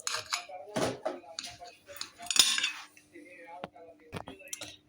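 A knife and utensils clinking and scraping against a dish while a meat pie is cut, in scattered sharp taps and scrapes with quiet gaps between them.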